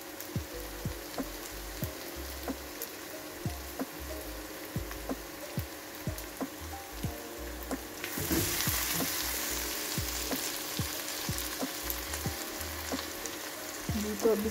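Garlic and ginger paste sizzles and spatters in hot oil in a cooking pot, a steady crackle with sharp pops that swells louder partway through as it is stirred, heard close with no talking.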